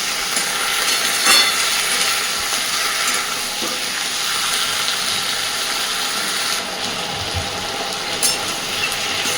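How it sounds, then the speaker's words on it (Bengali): Okra and potatoes fry with onion and tomato in a pan, a constant close sizzle broken by repeated scraping and clicking strokes of a stirring utensil. "ঢ্যাঁড়স আর আলুটাকে পেঁয়াজ টমেটো সব কিছুর সাথে মিনিট দুই তিনি ভালোভাবে একটু ভেজে নেব আগে"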